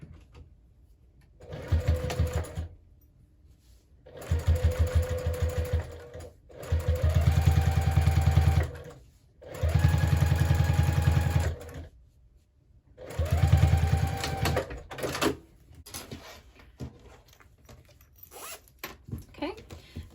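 A sewing machine topstitching a zipper pouch made from jelly roll fabric strips runs in several short loud whirring bursts separated by pauses, close up, with faint handling sounds between runs.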